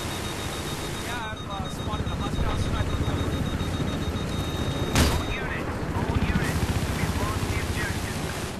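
Battlefield 3 game audio of a transport helicopter's constant thudding rotor roar, with bursts of gunfire mixed in, a sharp blast near the middle, and voices talking over it.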